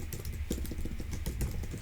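Steady, fast typing on a computer keyboard while Java code is written in a programming tutorial, with dense close clicking of keys throughout and no talk.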